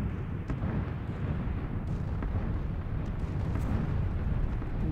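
Bombs explode in PlayerUnknown's Battlegrounds, a continuous deep rumbling roar of distant blasts with a few faint sharper cracks, steady and loud throughout with no talk.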